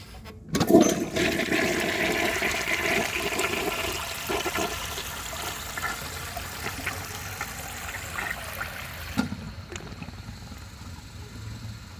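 A 1937 Standard Madbrook toilet flushes with a loud, rushing surge of water that starts abruptly and then settles into a steady, fainter trickle as the tank refills, with no talking.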